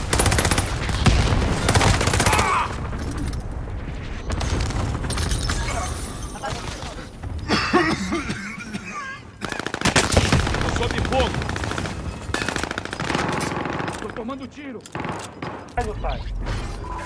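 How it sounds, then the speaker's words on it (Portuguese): Rapid gunfire and bursts of automatic weapon fire from the video game Call of Duty: Modern Warfare, dense and loud throughout, with players talking over the shooting. "Tiro!"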